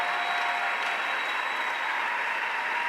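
Church congregation applauding together, a dense steady wash of clapping that stays even and loud from start to finish with no voices rising above it.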